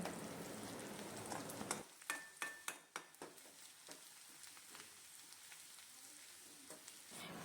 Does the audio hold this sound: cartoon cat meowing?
no